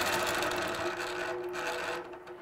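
A longarm quilting machine stitches a feather pattern on a quilt, a steady close mechanical whir and hum running throughout without pause, easing slightly quieter near the end.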